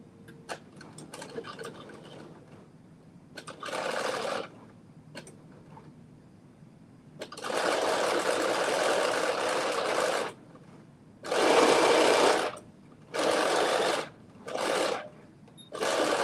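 A home sewing machine runs in several separate bursts of steady motor whir, some long and some short, with quiet pauses and faint ticking and handling noises between them.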